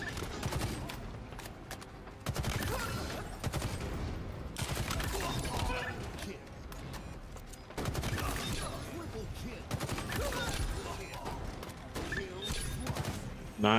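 Pistol shots ring out in a Halo Infinite zombie custom game, sharp repeated bursts in clusters with short pauses between them, mixed with game noise and some talk.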